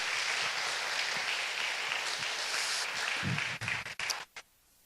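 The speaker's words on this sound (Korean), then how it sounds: "우리 뜨겁게 박수 영광 드리겠습니다" A congregation at a Friday Holy Spirit prayer meeting in a Korean church applauds warmly and steadily, then the clapping thins into a few scattered claps and stops abruptly, leaving near silence.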